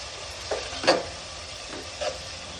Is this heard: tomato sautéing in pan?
yes